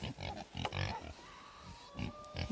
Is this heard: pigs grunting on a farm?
yes